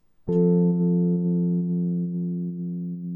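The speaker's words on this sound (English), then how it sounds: "tremolo gives you a kind of a wavy sound" A single sustained electric guitar note with a tremolo effect rings out after a sharp pluck, its loudness gently pulsing and wavering as it slowly fades.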